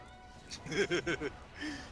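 A kitten meows several times in quick succession, close and fairly clear, set against the quiet background of the video game Monster Hunter Generations.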